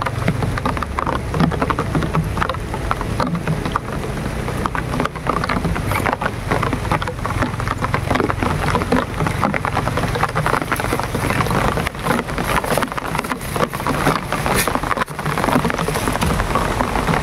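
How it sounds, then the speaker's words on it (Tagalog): Heavy rain pours down in a continuous loud wash, with gusty wind buffeting the microphone and low rumbling underneath throughout. "Sige na, malakas na yung ulan."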